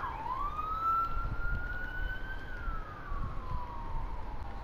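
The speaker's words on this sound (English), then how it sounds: "police sirens" A single police siren in the video game Far Cry 4 wails, rising and falling slowly as it carries from a distance over low background rumble.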